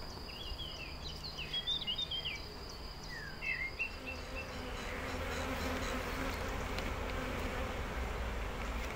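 Honeybees buzz steadily around a hive being smoked by a beekeeper, a dense continuous drone outdoors with a few faint bird chirps at the start, the hum thickening toward the end.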